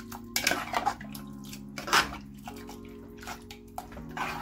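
Gongura leaves being stirred in a pressure cooker pot, with a metal spoon scraping and clinking against the sides in irregular knocks over a faint low hum, close and moderate, with no talking.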